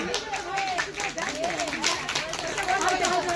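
A crowd claps together at a Christmas prize-giving event, with dense, uneven applause close by, mixed with excited chatter and voices throughout.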